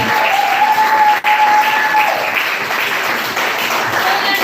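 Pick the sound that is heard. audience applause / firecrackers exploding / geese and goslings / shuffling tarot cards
audience applause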